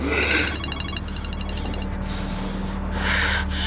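A person gasps and snorts for breath in a dramatic struggle, with ragged, noisy inhalations repeating close up over a steady low hum.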